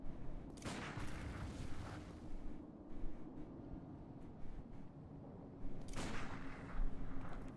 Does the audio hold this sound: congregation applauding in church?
no